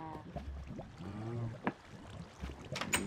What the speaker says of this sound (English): Dump out the water.